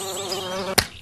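A close insect buzz from flies or mosquitoes wavers steadily for most of a second before a sudden sharp slap cuts in.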